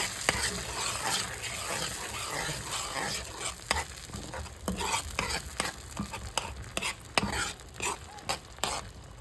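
Butter stirred in a frying pan, a steady close sizzle broken by repeated scraping strokes of a utensil against the pan.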